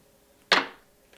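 A deck of oracle cards is riffled once in a quiet room, giving a single quick, crisp papery burst close by that fades within a fraction of a second.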